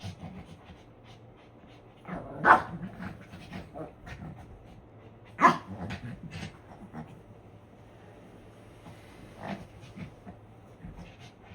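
A puppy pants and snuffles close by, with scuffling, soft grunts and a couple of sharp bumps as it plays.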